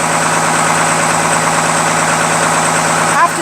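A boat engine idles loudly and steadily with a constant low drone and a fine vibration throughout, with a voice briefly audible underneath.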